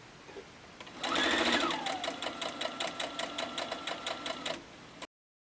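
A sewing machine stitches quilt block seams with a scant quarter-inch allowance for half-square-triangle blocks. It runs up to speed in one burst, then settles into a steady, close, even rhythm of stitches for several seconds before stopping abruptly.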